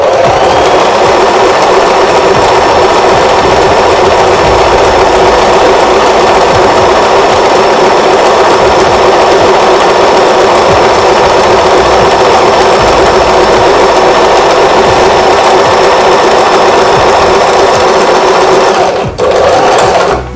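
Singer Start 1306 sewing machine stitching a zigzag pattern, a loud, steady, fast mechanical whir heard close up for about twenty seconds before it slows and stops, with no talking.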